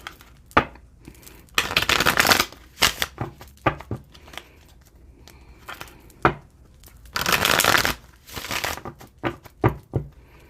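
Playing cards are shuffled in two brisk riffling bursts, close by, with scattered taps and rustles of card handling between them and no talking.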